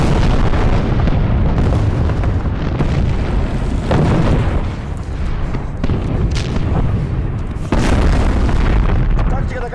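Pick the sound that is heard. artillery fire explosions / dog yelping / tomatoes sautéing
artillery fire explosions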